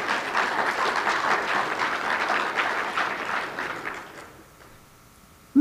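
Church congregation applauding, a steady dense clapping from many hands that fades away after about four seconds into near silence.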